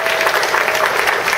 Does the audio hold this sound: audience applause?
yes